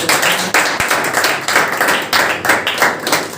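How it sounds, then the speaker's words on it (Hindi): A crowd claps loudly for a teacher during a motivational speech, with a steady, rhythmic roll of handclaps running the whole way through without a break. "उस सर के लिए थोड़ा सा एक बार जोरदार ताली की आवश्यकता"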